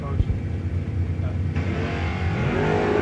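Tom Heath's Mustang drag race car, a dense, loud engine rumble revving and pulling hard, with a commentator talking over it.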